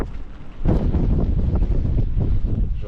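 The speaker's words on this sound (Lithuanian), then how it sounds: "Audra atėjo." Wind gusts across an anchored Beneteau sailboat during a rainy summer storm off the Netherlands, a heavy rumbling microphone buffeting that starts softer, then swells to a loud, sustained roar with no speech.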